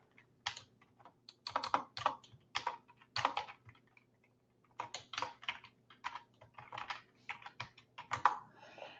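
Typing on a computer keyboard to enter a username and password, with bursts of quick, close keystrokes, a short pause midway, then more rapid clicking; no one speaks.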